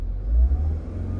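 A Mini Cooper S with an N14/N18 engine and a no-power, no-boost fault, driving uphill, a brief close low engine rumble rising slightly as it pulls.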